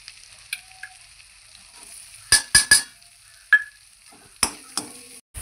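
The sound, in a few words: onion sizzling as it is added to the pan for pav bhaji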